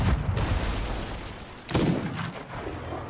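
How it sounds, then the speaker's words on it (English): Gunfire in the pirate video game Sea of Thieves as two players shoot at once, heard as dense, noisy blasts with a loud burst near the middle, distant crackle and no talking. "Oh yeah, they're both shooting at me now."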